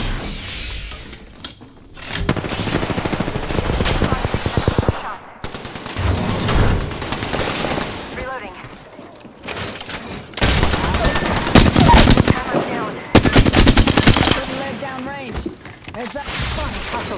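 Heavy gunfire in an Apex Legends skirmish, loud bursts of rapid automatic fire and shots in clusters, broken by short pauses, with in-game voice lines heard between volleys.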